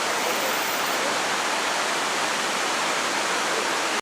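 A small river flows into a waterfall in dense, lush jungle on Martinique, making a loud, steady, broadband rush of water with no talking.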